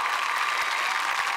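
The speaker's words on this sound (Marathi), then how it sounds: "जोरदार टाळ्या." A theatre audience claps loudly as cast members are welcomed, a dense, even wall of applause that fills the whole short moment without a break.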